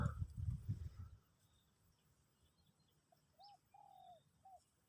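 A decoy bird in a bird trap set among tree branches gives a few faint, short cooing calls at a distance, after an opening burst of close rustling and handling noise.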